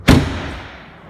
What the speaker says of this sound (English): It actually sounds really nice when you close the doors